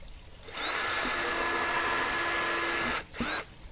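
Power drill boring holes with a small bit for rivets in a homemade bee vacuum build, a steady high whine lasting about two and a half seconds, then a brief second burst, close up with no talking.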